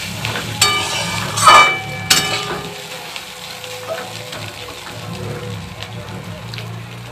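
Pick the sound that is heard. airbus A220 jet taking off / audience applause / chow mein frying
chow mein frying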